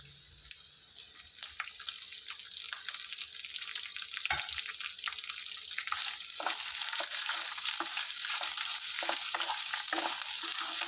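Onions and green chillies frying with prawns in oil for a brinjal prawn tomato curry, a loud steady sizzle up close with scattered crackles and stirring scrapes, no talking.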